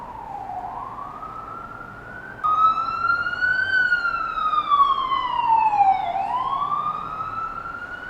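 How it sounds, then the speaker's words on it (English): A loud wailing siren rises and falls steadily, a second siren tone joining midway, sustained and fairly close with no talking. "And sirens."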